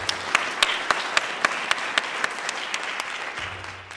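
A conference audience at DrupalCon Denver 2012 claps, dense applause spread across the room with a few sharp individual claps standing out, fading slightly toward the end.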